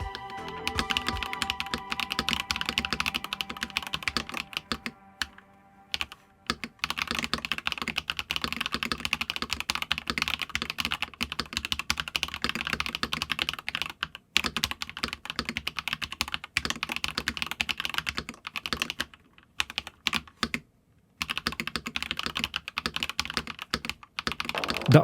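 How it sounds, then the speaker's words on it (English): Steady typing on a Royal Kludge RK96 compact 90% keyboard fitted with linear Viridian switches, a close, continuous stream of soft keystrokes broken by a few brief pauses, with no voices. "With the new sound of the RK96, my brain gets a little tingly each time I use it."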